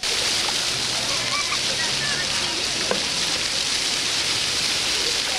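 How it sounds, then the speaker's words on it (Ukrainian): Water from a city square fountain splashes and patters continuously, with children bathing in it, a dense close spray of droplets and occasional brief splashes throughout. "У фонтанах на площі Костянтина Могилки купаються діти."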